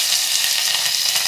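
Curry leaves hit hot oil in a mustard seed and cumin tempering for masala khichdi and kadhi, giving a loud, steady, hissing sizzle with faint crackles throughout.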